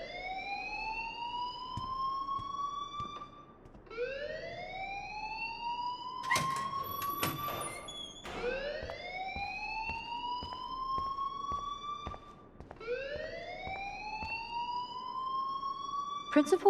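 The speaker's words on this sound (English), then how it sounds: "please turn off that alarm since that's your job" A school alarm in the game Life Is Strange wails in repeated rising sweeps, about four long cycles at a steady moderate level, with a brief burst of clatter partway through.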